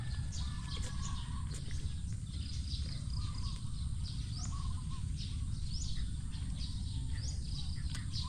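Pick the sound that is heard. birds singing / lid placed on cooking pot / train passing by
birds singing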